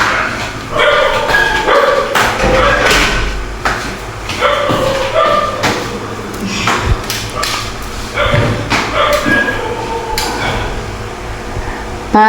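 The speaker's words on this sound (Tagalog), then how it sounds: "Maingay mga aso ko ay." Several dogs bark repeatedly in bursts, loud and close, with some yips between the barks over steady background hum.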